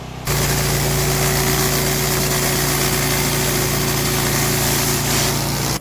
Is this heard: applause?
no